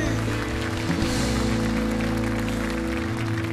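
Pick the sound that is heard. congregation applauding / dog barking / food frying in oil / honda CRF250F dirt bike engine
congregation applauding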